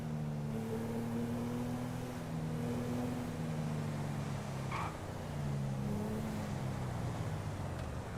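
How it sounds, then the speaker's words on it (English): A video game car's engine drones steadily with a rich, rumbling tone that rises and falls slightly as it revs, loud and continuous throughout with no speech over it. "Ooh, I like that car."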